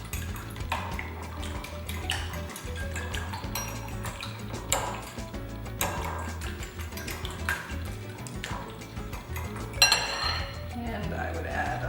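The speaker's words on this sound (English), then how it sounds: "And just whisk these up." A fork whisks eggs in a bowl for schnitzel, giving rapid, uneven clinking taps against the bowl, with some voice in the background.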